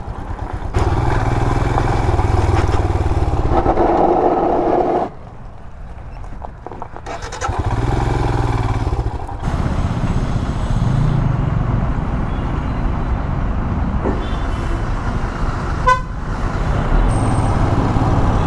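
A Royal Enfield Himalayan BS6 motorcycle engine runs loud and close in city riding, a steady rumbling drone that dips briefly and then returns, with no talking.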